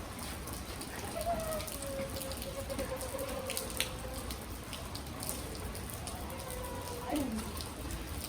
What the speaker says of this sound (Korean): 비가 오고 있어.